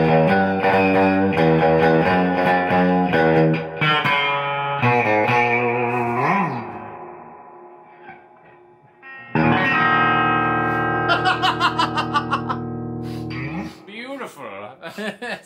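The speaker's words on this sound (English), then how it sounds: "Going through the Fender Deluxe Reverb" A new Fender electric guitar through a Fender Deluxe Reverb tube amp rings out chords with heavy distortion and effects, sustained and reverberant, with pauses between phrases and tremolo-like pulsing near the end.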